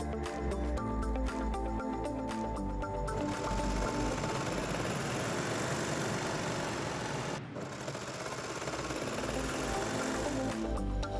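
A sewing machine runs in a steady, fast mechanical chatter while stitching a pocket piece onto toddler shorts, pausing briefly midway before continuing.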